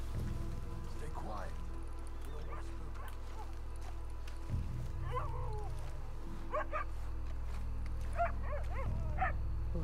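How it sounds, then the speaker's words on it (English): Dog barking in the open-world western game Red Dead Redemption 2, a few short scattered barks and yips heard mid-distance over a steady low ambient rumble, with people talking at times. "There's a dog."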